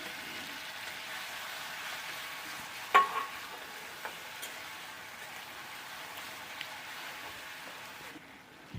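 Bihari-style egg curry masala with tomato paste sautéing in a pan while being stirred, a faint, steady sizzle with a single sharper scrape of the spoon partway through and no voices.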